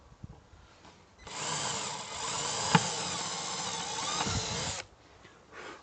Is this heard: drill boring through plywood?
yes